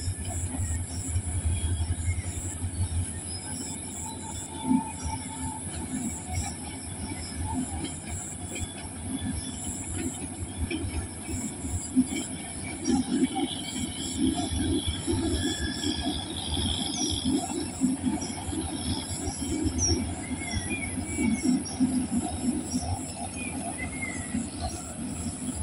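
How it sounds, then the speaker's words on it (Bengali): A long train headed for Dhaka rolls past on rails in a village in the morning, a sustained rumble with clattering wheels and occasional squeals, fairly near and steady throughout. "সকালে ট্রেন ঢাকার উদ্দেশ্যে যাইতেছে গা।"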